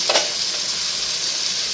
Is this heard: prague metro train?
no